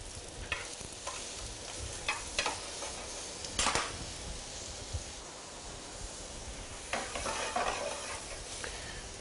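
Shrimp stirred in a frying pan for fusilli with shrimp, with a steady soft sizzle and intermittent scraping strokes of a utensil, one sharper clatter near the middle, no talk.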